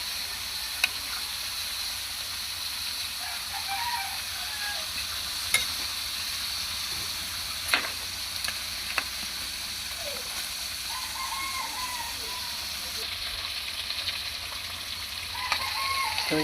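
Fish fries in a pan with a steady, fairly soft sizzle throughout, broken by occasional sharp clicks and scrapes of utensils, in an outdoor island setting.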